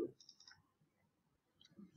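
A few faint, sharp mouse clicks while working in Visual Studio 2019 with Git, with a short click at the start and soft clicks later in a quiet room.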